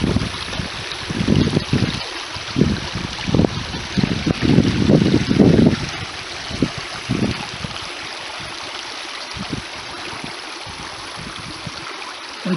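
Water flows at a waterfall pond as a continuous, hissing wash, with gusty wind buffeting the microphone in bursts during the first half before the rush settles into a steadier, quieter stream.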